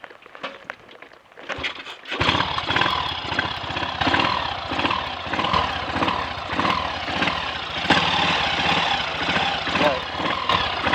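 A Triumph Sports Cub motorcycle with a misfiring, cutting engine: after quiet handling noises, the engine fires up and runs loud and close with a rapid, uneven pulsing beat that stutters irregularly.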